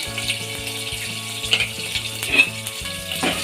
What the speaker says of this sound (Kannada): ಈರುಳ್ಳಿ ಚೆನ್ನಾಗಿ ಫ್ರೈ ಆಗಬೇಕು ಒಂದು ನಿಮಿಷಗಳ ಕಾಲ ಫ್ರೈ ಆದರೆ ಸಾಕು